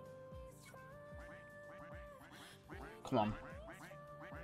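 Cartoonish duck quacks from the Roblox game Duck Army sound in quick repeated bursts over game music and effects, with one louder quack standing out; a voice speaks briefly.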